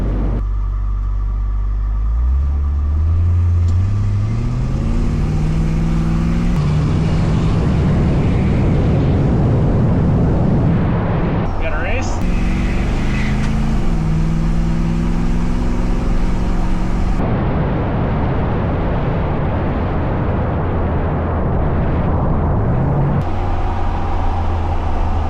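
A 1966 Ford Mustang drives around town at night, its engine a loud, steady rumble close to the microphone, rising and falling as it revs through gears, with no talk.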